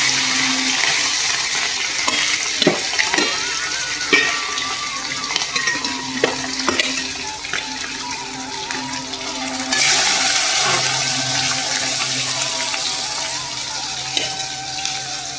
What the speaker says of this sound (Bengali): এখন পেটের মাছ কাটা ভাজছি যে